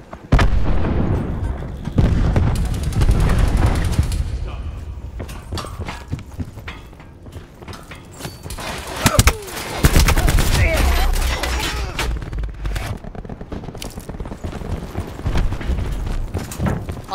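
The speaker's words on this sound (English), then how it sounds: "Cluster grenade. Enjoy." Cluster grenade blasts and gunfire in the multiplayer shooter Call of Duty Black Ops 4, heard as dense, continuous bursts of booms and rapid shots with several loud peaks, some speech mixed in.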